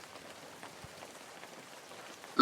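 Rain falling on a village house, a soft, steady patter of drops at low level, with a sharper splash at the very end.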